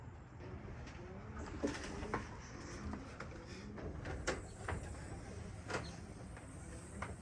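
Racing pigeons in their loft give soft, low cooing under a steady rustling background, with occasional brief flutters and knocks as birds move about; no one speaks.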